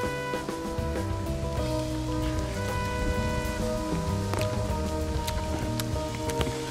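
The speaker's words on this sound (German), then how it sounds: "Jetzt fängt es zum Regen an" Rain begins falling outdoors in Schlierbach, a dense, steady patter of drops with scattered sharper hits, continuous and fairly loud throughout with no talking.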